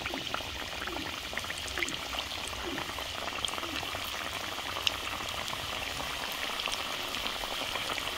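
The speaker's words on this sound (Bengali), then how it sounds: "তেল গরম হয়ে গেছে, এক এক করে ঠেকুয়া তেলের মধ্যে ছেড়ে দিচ্ছি।" Thekua, wheat dough sweets for Chhath Puja, deep-fry in hot oil, a soft even bubbling hiss that stays constant throughout with tiny scattered pops, heard up close and without talk.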